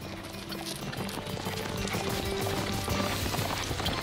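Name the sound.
horses galloping, hooves clip-clopping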